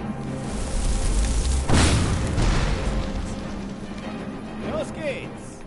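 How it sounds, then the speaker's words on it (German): A single heavy explosion erupts from an enemy blown up in the video game Skyrim, a broad booming blast in the middle of steady game ambience, with someone talking throughout. "Explodiert!"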